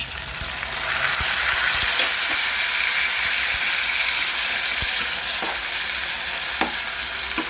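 Chopped onion and tomato frying in a pan with turmeric, a steady close sizzle with occasional stirring clicks and scrapes throughout, no talking.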